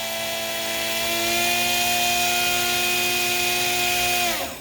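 An electric kayak motor runs at quarter throttle, around 6,500 RPM, giving a steady, close high-pitched whine with layered tones that sags and spins down at the very end.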